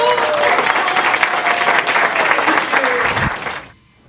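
Audience applause at a candy bar reveal event at Sweets Candy in Hollywood, loud continuous clapping with some crowd voices underneath, ending in a sudden cutoff.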